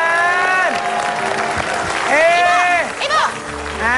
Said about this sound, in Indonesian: Oh ini istrinya, tepuk tangan